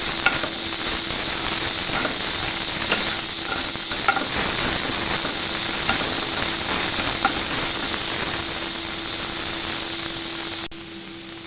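Finely chopped onion with green chilli frying in hot oil for besan masala paratha, a steady loud sizzle and hiss throughout with faint scraping stirs, no voices.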